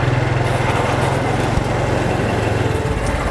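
Motorbike engine running steadily at close range, a continuous buzzy drone with a faint pulsing throb and no pauses.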